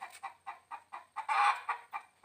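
A chicken clucks in a quick, even series of about eight short, fairly close clucks, with one longer, louder squawk in the middle and no voices.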